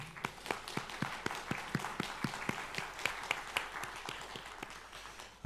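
A church congregation at Sunday worship claps in welcome of a newly registered member, a quiet, fairly sparse round of distinct hand claps with a loose rhythm.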